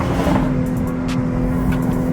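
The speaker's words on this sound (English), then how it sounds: "They got that Civic right there." A Honda Civic drives by on a city street with a loud, steady engine drone and a strong low hum close to the listener, continuous for the full moment.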